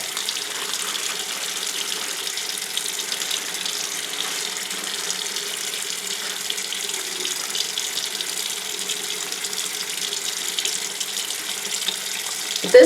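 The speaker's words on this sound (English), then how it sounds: "I'm going to go ahead and run the water and start removing my gloves on here over my sink so I can wash my hands." Water runs from a sink tap while hands are washed, a steady close splashing stream holding an even level throughout, with a small bump at the very end.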